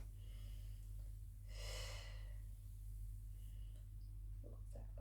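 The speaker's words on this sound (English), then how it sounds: "So breathe into the middle, exhale down." A person doing a pilates back-mobility stretch breathes in and then exhales slowly. The breath is close but soft over a low steady background hum.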